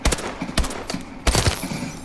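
Bursts of AK-12 rifle fire in Call of Duty: Advanced Warfare, with three loud, sharp volleys in quick succession, each a short cluster of rapid shots with a ringing tail, no voices.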